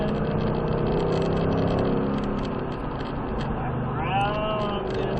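A Ford Mustang's engine hums and rises on a racetrack, a steady mid-pitched drone heard from the cabin with a brief climbing rev near the end, while a driver speaks over it.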